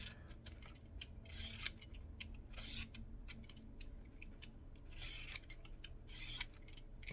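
A peeler scraping the bad spots off a butternut squash in a kitchen, with faint, irregular short rasping strokes at close range.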